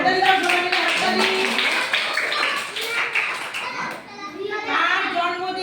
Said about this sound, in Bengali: হাততালি দাও সবাই মিলে, হাততালি।